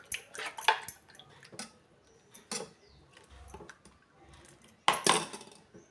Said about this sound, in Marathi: हे बघा, मी गॅसवर पॅन ठेवला आहे छोटासा.